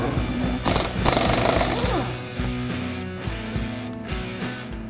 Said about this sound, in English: I'm going to pop the flywheel off.